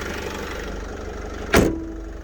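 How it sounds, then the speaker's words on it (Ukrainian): A 2012 Renault Trafic van engine idles steadily at close range, then a brief sharp knock or thump cuts through near the end. "Тут у нас працює моторчик, як з конвейера він зійшов."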